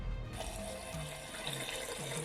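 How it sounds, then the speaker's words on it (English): Rice being washed in a sink of water under a running tap while preparing jollof rice, a steady close splashing and trickling with no talk. "make sure you wash the rice until the water is clear"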